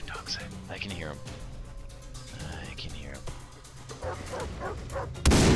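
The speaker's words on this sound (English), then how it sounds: "Where are these fucking dogs at? I can hear them." Dogs barking and yipping in the video game Far Cry 3, several bursts spread across the clip at moderate distance, mixed with game sound and quiet talk underneath.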